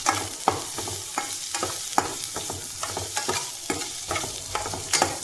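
Chopped onions sautéing in a pan for wheat rava upma, a constant sizzle of frying broken by about a dozen scraping stirs of a spoon, close and with no talk.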